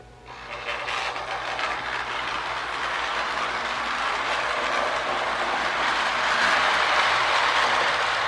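A Lionel GP9 Erie Lackawanna model locomotive rumbles steadily along the track with a continuous clattering whir that builds slightly louder toward the end, with no talking.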